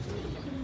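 Pigeons cooing in a loft of striped and cross-bred birds, a short low murmuring burst heard close by and fairly loud with a steady background hum, no talk.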